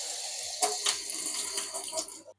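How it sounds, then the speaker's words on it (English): Boiled water poured into a pot of rice while cooking shole serd, a close, splashy stream with gurgling bursts that tapers off at the end. "you can just put your boiled water in there"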